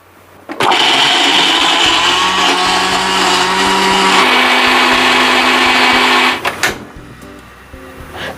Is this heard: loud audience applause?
no